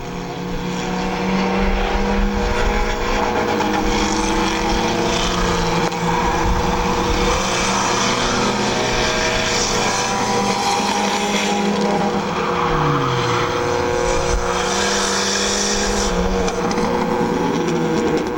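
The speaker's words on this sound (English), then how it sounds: "Gary Gibson bringing out the new car on his first night of the racing season." A race car on the Midvale Speedway oval roars steadily throughout, engine droning loud and close with shifting pitch as it laps the track, other cars blending into the continuous racing noise.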